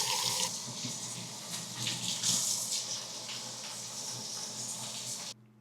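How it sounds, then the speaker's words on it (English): Water runs steadily from a tap while hair is washed out at a sink, a close, continuous splashing gush that cuts off abruptly at the end. "Like, let's wash it out."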